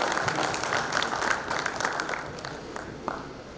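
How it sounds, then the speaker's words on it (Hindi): Audience applause in a hall after a speech by the president of the Poultry Federation of India, a steady wash of many hands clapping that gradually thins toward the end, with no talk over it. "तालियां वगैरह करी जाए।"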